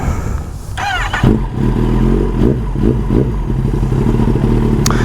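A warmed-up 2022 Kawasaki ZX10R sport bike starts up and settles into a loud, close, throbbing idle with brief rising revs and a mechanical clatter, no voices over it.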